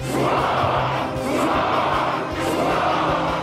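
Enemy crowd in the video game Metro: Last Light cheering and roaring in unison, a dense sustained mass of voices swelling in loud repeated waves.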